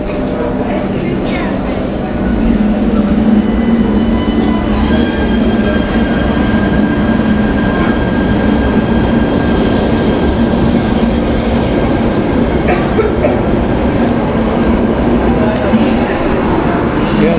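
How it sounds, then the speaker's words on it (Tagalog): Train pulling into a station platform in Germany, a loud continuous rumble with rising wheel and brake squeal, station noise throughout. "Ayan, sunod na yung train ko. Ayan yung train ko guys."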